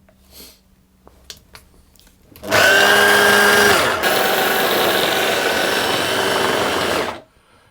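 A stand mixer works tart pastry dough after egg yolks go in, a loud steady whirring drone running about four and a half seconds after a few faint clicks, dropping slightly in pitch partway as the dough begins to clump.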